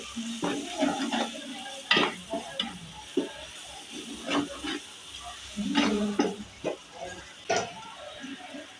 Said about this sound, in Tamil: இஞ்சி வெள்ளைப்பூடு பேஸ்ட் சேர்த்து அதை பச்சை வாசனை போகிற அளவுக்கு மிக்ஸ் பண்ணி விட்டுப்போம்.